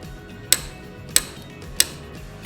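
Four sharp mechanical clicks at a steady, roughly even spacing as the solenoid of a Cadillac power seat transmission is energized and its core snaps inward, close and clear over a quiet background hum.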